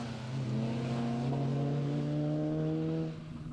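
Rally cars race at Cadwell Park as an MG-ZR moves aside to let faster cars through, with a loud, sustained engine drone whose pitch rises steadily before easing off as the car passes.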